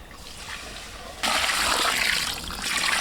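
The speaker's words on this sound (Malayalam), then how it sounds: "ഇനി നമുക്ക് റൈസ് വേവിക്കാൻ വേണ്ടി കുറച്ച് വെള്ളം കൂടി ഇതിനകത്ത് ഒഴിച്ചു കൊടുക്കണം." Hot, freshly boiled water poured into a pot of mutton biryani masala to cook the rice, a steady close splashing stream that swells sharply partway through and keeps running to the end, with no talking.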